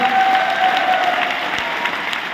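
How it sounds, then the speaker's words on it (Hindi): Loud, dense applause from a crowd, continuous throughout with a faint voice underneath early on. "फर्ज बनता, अपना हक बनता है कि किशन सर के लिए जबरदस्त तालीम बनती है ना,"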